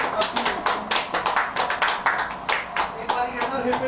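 A group of people in Jaipur claps to cheer Avani Lekhara's Tokyo 2021 Paralympic shooting gold medal, with steady, rapid, close applause running throughout and voices talking over it.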